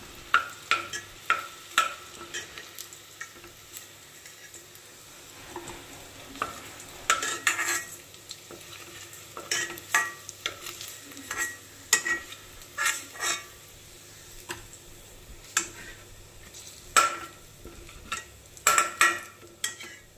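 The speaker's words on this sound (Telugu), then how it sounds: "ఇలా వేగినప్పుడు ఈ చేపలన్నీ సపరేట్గా తీసుకోవాలి" Dried fish frying in a pan for a vegetable curry, with a steady soft sizzle under repeated clinks and scrapes of a utensil stirring against the pan, close by and with no talking.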